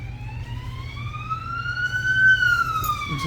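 An ambulance siren wails steadily in one long rising and falling tone over a low background hum, with no voices.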